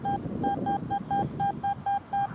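A metal detector gives a rapid, regular series of short beeping tones over a rumble of wind noise on a windy hilltop farm field in Oxfordshire.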